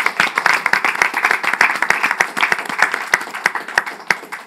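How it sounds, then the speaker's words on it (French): An audience applauds at a Kadance Kreole culture and heritage event, dense steady clapping from many hands, close and lively, lasting a few seconds. "On l'applaudit."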